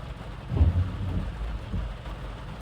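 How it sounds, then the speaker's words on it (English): Heavy rain pouring steadily outdoors with low thunder rumbling in brief swells, close and full, no voices. "This rain is amazing, by the way. It's getting stronger."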